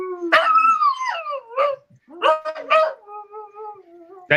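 Falcor the dog gives close, voiced yowls and yips, with pitch sliding up and down across several short phrases and a sustained steady tone near the end.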